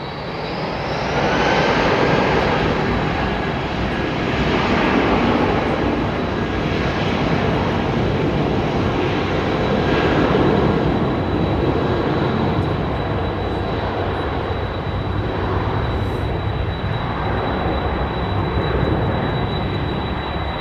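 A jet airliner at London Heathrow rumbles steadily through a takeoff roll, a broad, sustained engine roar that swells and eases slightly but stays loud throughout, with no voices.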